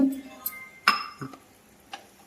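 A small kadai is set on a stove with a few sharp metallic clinks and taps, followed by quieter handling sounds as ghee goes in; brief, close and sparse.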